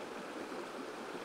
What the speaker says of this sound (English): the river's running quite a lot stronger than I thought